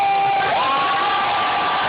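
A young crowd at a university rally cheers and whoops loudly in one short burst, with no talk over it.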